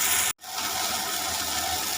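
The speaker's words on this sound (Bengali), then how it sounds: "এবার আমি এর মধ্যে জল দিয়ে দেবো" Hot water from a kettle pours into a pan of fried okra, a steady gushing splash after a brief break, loud and close throughout.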